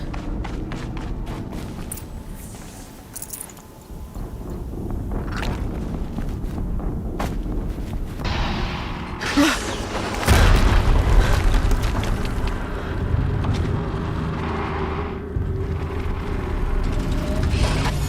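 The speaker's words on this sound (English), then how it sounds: "Another explosion." Explosions in the Horizon Zero Dawn game, loud booming bursts over a dense, rumbling battle soundscape, with a strong blast around the middle and sustained heavy noise afterward.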